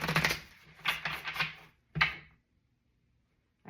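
Cards riffle and snap together in a few quick bursts while a deck is shuffled by hand, followed by a final flutter and then quiet.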